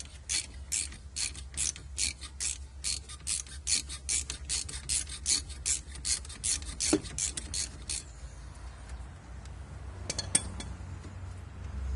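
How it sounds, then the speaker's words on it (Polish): A ratchet wrench clicks close by in quick rhythmic bursts for several seconds while unscrewing an Opel Calibra brake caliper, then stops, leaving a few faint metallic clinks. "Z naszą grzechotką odkręcamy najpierw zacisk."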